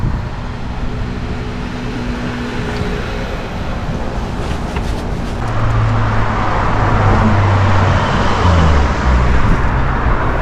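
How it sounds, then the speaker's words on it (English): A Porsche drives past on the Venetian Causeway amid steady roadway traffic noise, its engine rumble swelling from the middle of the stretch and staying loud and close. "Yeah, it's a Porsche."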